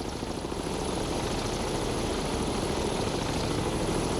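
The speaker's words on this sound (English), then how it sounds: "Our helicopters are coming back." Helicopters return in the naval warfare video game Cold Waters, giving a steady, loud rotor and turbine drone with a fast chopping pulse that holds evenly throughout, with no voices.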